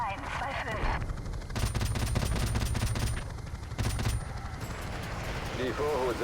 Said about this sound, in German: Wir sind hier weiterhin ein bisschen am Geschütz am Rumballern.